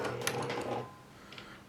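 Sewing machine stitching a quarter-inch seam on a pair of pants, a short burst of fast mechanical whirring that stops after under a second, followed by faint clicks, close and moderately quiet.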